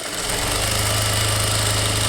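Electric sewing machine stitching a blouse, a fast, even mechanical chatter of the needle running steadily and close, alone without talk.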